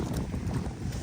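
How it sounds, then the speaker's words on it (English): Strong wind roars steadily through a Kyoto street during a heavy 2023 snowstorm, a dense, buffeting rush of low noise that sounds close to the microphone, with no talk. "The wind is so strong"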